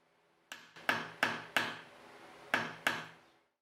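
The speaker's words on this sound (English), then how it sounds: "I just have to hammer a little point so I can insert it into the hole." A hammer taps a point onto the end of a gold wire: six sharp, close strikes in an uneven rhythm, each ringing briefly before fading, with no talk.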